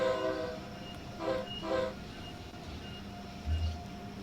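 An Acela Express train runs in the Train Sim World video game, with a steady rumbling hum and horn-like tonal bursts that come and go over a continuous low drone, heard alone without talk.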